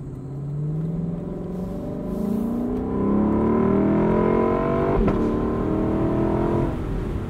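A 2021 Lexus LC 500 Convertible engine revs up, its pitch climbing in overlapping sweeps into a loud, sustained roar, with a brief click partway through.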